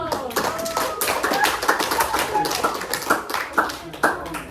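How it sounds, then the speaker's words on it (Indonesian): A class of children claps together in a classroom, a dense patter of many small hands with uneven rhythm and a few sharper claps standing out, with children's voices mixed in. "berani tampil di depan untuk beri aplaus dulu"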